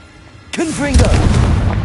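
After a brief quiet moment, the Confringo fire spell in Hogwarts Legacy bursts into a loud explosive boom that rumbles on, with a voice calling out over the blast.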